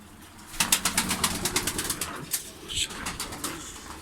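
Rapid fluttering wingbeats of Limoni pigeons burst out, followed by soft cooing and rustling, fairly close with some movement throughout.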